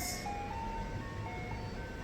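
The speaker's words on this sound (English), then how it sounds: "that ice cream truck outside messing up my video" An ice cream truck plays its chiming jingle outdoors at moderate distance, a steady melodic tune over faint background hiss with no talking.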